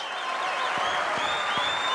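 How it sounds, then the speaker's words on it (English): A squash crowd at the 2012 PSA World Championship final erupts in dense, sustained applause and cheering after a rally, with loud whistles rising over the clapping. "People in the crowd jumping out of their seats."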